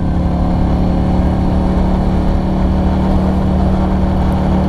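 A Keeway V250Fi motorcycle's engine, heard through its standard exhaust, runs in a loud, steady, close drone with no clear change in pitch.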